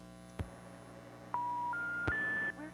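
Telephone dialing tones on a phone line: a few clicks, then a sequence of three steady rising tones played back to back, clear and fairly quiet with no talking.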